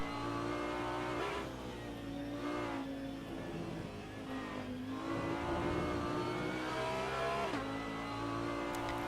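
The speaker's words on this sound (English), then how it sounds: "I'll allow you to hear the scream of that Lamborghini engine" Lamborghini GT3 race car engine at Spa screams through repeated high revs, the pitch rising and dropping several times with gear changes, loud and continuous with a steady drone underneath.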